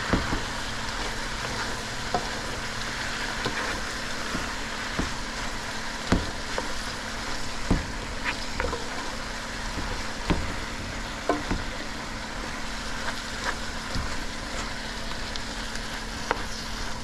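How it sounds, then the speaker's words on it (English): Spinach wilting and being stirred in a sizzling pan, with a steady close frying hiss throughout and scattered soft scrapes and clicks of stirring; no talking. "Just give it a stir."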